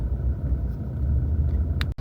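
A car engine rumbles low and steady from inside the vehicle while parking near a hotel, a close continuous drone that cuts off abruptly at the end.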